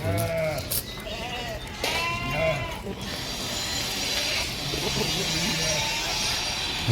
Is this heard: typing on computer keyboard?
no